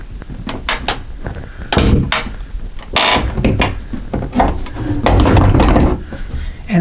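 A bypass sliding closet door is pushed back and lifted up out of its overhead track, giving a string of close rattling knocks, scrapes and clunks of the panel against the track and frame, with a louder burst of handling noise toward the end.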